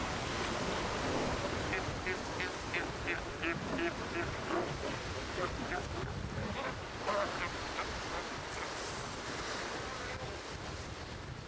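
A sea lion colony on a rocky Tasmanian coast, honking and barking calls rising over constant crashing surf and wind buffeting the microphone, the animals fairly near and partly masked by the waves.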